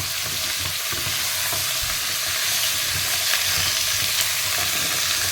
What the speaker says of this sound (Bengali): এবার যে আলুটা নিয়েছিলাম আলুটা দিয়ে দিলাম এখানে।